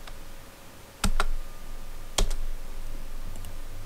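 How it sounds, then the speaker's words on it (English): Keyboard keys tapped in a few separate bursts, a single sharp click, then a quick double tap, with a faint steady hum underneath and no voices. "you just backspace, backspace, backspace, and you type"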